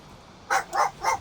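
Three short, clear dog barks in quick succession inside the video game Valheim, fairly close and loud over a quiet background, with no talking.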